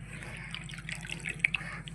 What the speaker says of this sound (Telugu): కావలసిన నీళ్ళు పోసుకునేసి నీట్గా కడిగి పెట్టేసుకునేసి